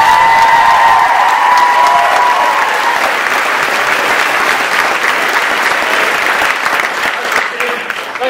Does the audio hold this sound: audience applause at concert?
yes